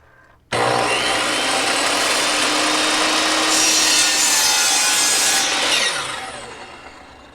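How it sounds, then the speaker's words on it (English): A miter saw slices through wood at a 45-degree angle for kitchen cabinet drawer fronts, a loud continuous whining cut lasting about five seconds before the blade spins down. No one speaks. "I'm going to actually just cut these at 45-degree angles, and so this miter saw does really well"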